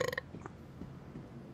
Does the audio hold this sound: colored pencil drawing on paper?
no